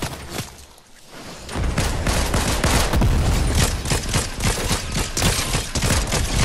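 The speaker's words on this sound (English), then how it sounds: "Somebody's shooting at us." Dense video game gunfire erupts after a brief lull, a rapid, loud barrage of overlapping shots and bursts continuing without pause to the end.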